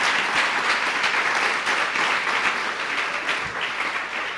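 A church congregation claps together in steady, sustained applause that fills the room, dense and even throughout, with no voices standing out.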